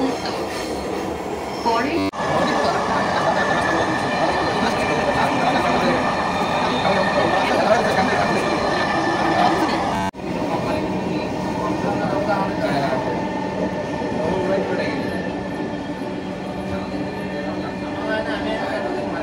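A Dhaka metro rail train bound for Uttara North runs with a steady, loud rumble and rolling wheel noise throughout, with brief dips where the sound breaks, while a voice speaks over it.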